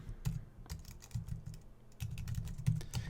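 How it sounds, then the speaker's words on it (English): Rapid keystrokes on a computer keyboard as an address is entered into a real estate listing form, a steady, close run of light clicks and taps with no talking. "You just type in an address,"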